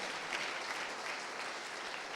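Clapping from a church congregation giving the Lord a round of applause, a dense, even wash of many hands at moderate distance, no voices on top.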